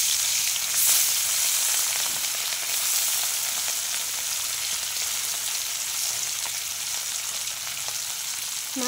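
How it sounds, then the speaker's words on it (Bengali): Rohu fish sizzling in hot oil in a pan, a steady, bright, hissing fry that holds for several seconds with faint stirring, no voices. "তেল গরম হয়ে গেছে, আমি মাছটা ছেড়ে দিচ্ছি।"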